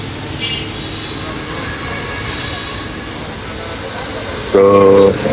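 Trains at Kamalapur railway station in Dhaka, Bangladesh, produce a steady rumble of rail cars and station machinery, with a sudden louder burst of squealing or hissing near the end, and people's voices mixed in.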